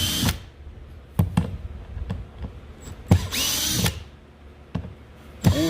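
A cordless drill backing screws out of a boat's navigation light base, several short whirring bursts with pauses between them and one longer run, close up with no talking.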